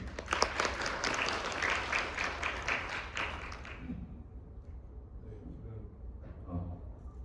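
Audience applause at a business forum on AI and industry, a dense burst of clapping for about four seconds that fades out, followed by quieter room noise and faint talk.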